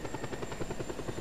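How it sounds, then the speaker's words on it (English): A helicopter in the Just Cause 2 multiplayer game thumps with fast, steady rotor beats and a constant high whine, loud and close throughout with no voices. "I can boost in a helicopter."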